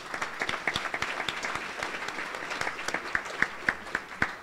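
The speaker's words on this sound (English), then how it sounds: "So let's give them all a round of applause," Audience at a general membership meeting applauds its sponsors, steady moderate clapping with a few sharper individual claps standing out near the end.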